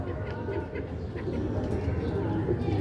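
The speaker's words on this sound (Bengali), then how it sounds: "পেন্সিল দুমের পায়রাটা দেখুন" A pencil-tail pigeon coos softly and close by in low, rolling murmurs, with faint background noise.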